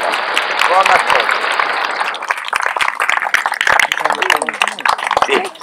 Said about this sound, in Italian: vi facciamo un bel applauso